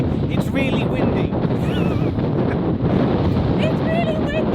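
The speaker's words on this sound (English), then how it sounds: "it's really windy." Strong wind blasts across the microphone on the road up to Snaefell summit on the Isle of Man, a dense, continuous roar with faint high whistles riding on top.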